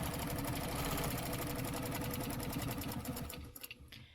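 A sewing machine stitches a stencil design in one steady, fast, loud run that stops abruptly near the end, with no talking over it.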